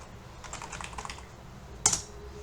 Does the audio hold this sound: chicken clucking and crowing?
no